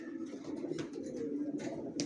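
Racer pigeon chicks coo softly and continuously at close range, a low steady murmur with a few brief higher chirps mixed in.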